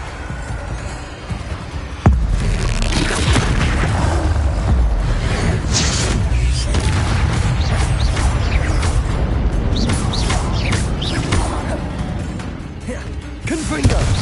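Repeated Confringo fire-spell blasts in Hogwarts Legacy, several sharp, loud impacts and crashes layered over continuous dense combat noise.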